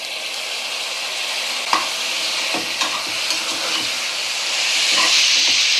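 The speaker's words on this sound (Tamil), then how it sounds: "நல்லா தக்காளி வெங்காயம் சேர்ந்து நல்லா கிரேவி மாதிரி வரணும். அந்த அளவுக்கு நல்லா வதங்கணும்." Tomatoes and onions sautéing in a pan for chicken biryani, with a steady close sizzle and hiss throughout, broken by a few soft stirring knocks and scrapes, the frying growing slightly louder toward the end.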